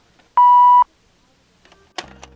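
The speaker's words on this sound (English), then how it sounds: "The school film strip beep." A school film strip projector beep: a single steady electronic tone of about half a second, clean and loud, followed by faint clicks and a brief mechanical rustle.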